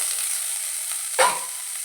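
Ginger, garlic and green chilli paste fries in coconut oil with a soft, constant hiss. Near the middle, a single sharp sizzle swells briefly, as if the paste is stirred or added, then the hiss fades back to a quiet background.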